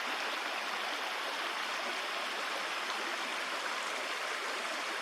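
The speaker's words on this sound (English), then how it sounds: "and I'm back to the creek." A creek at Steinman Run Nature Preserve in Lancaster County, Pennsylvania, rushes steadily and fairly loudly, a constant close wash of flowing water with no voices.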